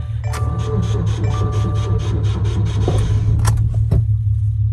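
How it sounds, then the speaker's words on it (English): A Subaru boxer engine cranking, with the starter's loud rhythmic churning running for several seconds before a brief catch and sputter, then dying away with a couple of knocks. "So it cranks and cranks, and it kind of like starts up and it dies right away."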